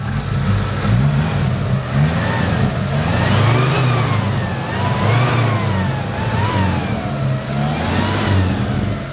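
A 1975 Chevrolet Malibu's 250 inline-six with a one-barrel carburetor revs up and down repeatedly, loud and close, with rising and falling engine pitch and no talk over it.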